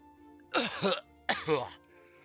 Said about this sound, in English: He coughs one last time and dies.